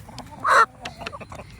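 A Marans and speckled Sussex mix hen gives one loud, close cluck, followed by softer scattered clucks and farmyard murmurs.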